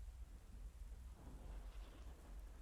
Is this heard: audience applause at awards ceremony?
no